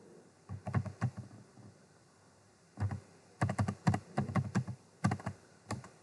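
Typing on a computer keyboard while entering items in Tally accounting software: quiet bursts of rapid key clicks separated by short pauses, close by with a faint steady hum beneath.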